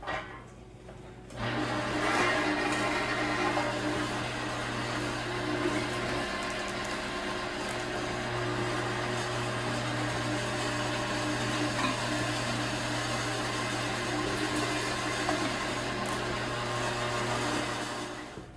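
An electric meat grinder churns through pure venison, a steady loud motor whine with a low mechanical hum that runs continuously for many seconds after a short start, with no talking.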